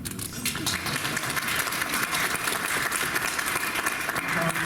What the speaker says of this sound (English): y'all can clap for him.